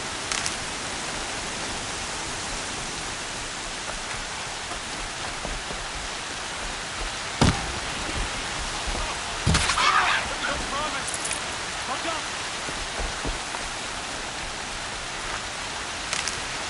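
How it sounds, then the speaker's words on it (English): Steady heavy rain pours down outdoors in a continuous loud wash, with a few sharper bursts and splashes rising out of the downpour. "Rain's too loud to hear much."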